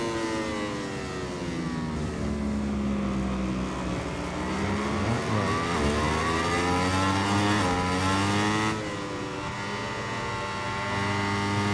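A racing motorcycle engine in the video game MotoGP 21 revs hard and shifts through rising and falling pitch sweeps, loud and continuous without pause.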